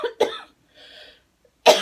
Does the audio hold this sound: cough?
yes